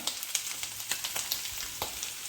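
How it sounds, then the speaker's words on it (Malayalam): Clams stir-frying in coconut oil in a pan, a steady bright hiss of sizzling with a few soft stirring knocks, close and continuous. "ഒരു അഞ്ച് മിനിറ്റ് ഇങ്ങനെ കിടന്ന് ഇടക്കൊന്ന് ഇളക്കി കൊടുത്ത് ഒന്ന് നല്ലോണം മുരിഞ്ഞ് വരട്ടെ"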